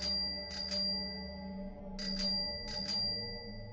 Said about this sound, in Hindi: ये तो उसकी एटलस साइकिल की घंटी की आवाज थी